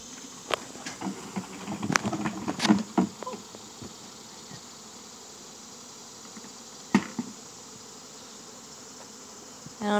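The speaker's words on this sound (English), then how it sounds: "because Dad has a bucket full of bees." A honey bee swarm buzzes inside a bucket outdoors, a steady hum with scattered knocks and taps against the container, a cluster of bumps early on and another near the end.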